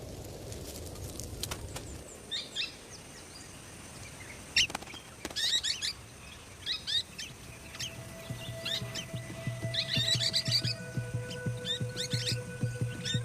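Golden-shouldered parrots call in bushland, a series of short, thin chirping bursts scattered across the clip over a low steady background hum, some calls louder and closer than others.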